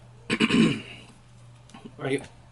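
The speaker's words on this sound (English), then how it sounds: "I don't cough all day really until I start recording a video." A person clears their throat with a harsh, raspy burst, then after a short pause gives a second, shorter throat clearing.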